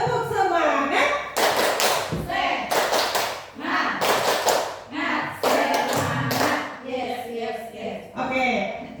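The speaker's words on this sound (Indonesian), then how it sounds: "Coba tepuk semangat." A group of mothers claps a rhythmic 'tepuk semangat' cheer pattern, bursts of sharp hand claps in short sequences alternating with chanted voices, close and loud.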